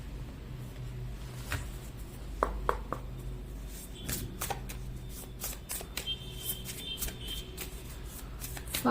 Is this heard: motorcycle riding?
no